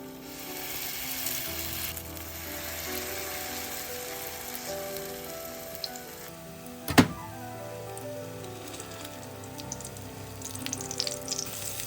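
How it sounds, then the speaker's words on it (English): Potato pancakes frying in medium-high hot oil in a pan give a continuous, fairly quiet sizzle and crackle, with a brief sharp clink partway through. "I test the oil by frying up a small piece. When it sizzles, it's good to go."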